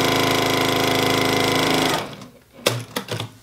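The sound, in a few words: sewing machine sewing across the bottom of a bag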